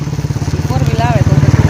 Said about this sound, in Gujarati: બાઇક નીકળતા જોઈએ